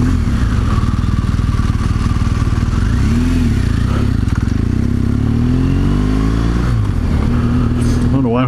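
A BMW 1200 GSA motorcycle ridden along a canyon road, its engine droning loud and close with rising and falling revs through gear changes, wind roar throughout.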